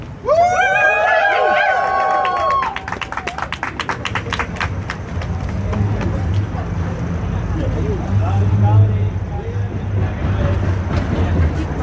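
At a No War on Venezuela protest in Louisville, Kentucky, a crowd cheers and whoops loudly at first, then the noise settles into a steady outdoor murmur with scattered voices and traffic.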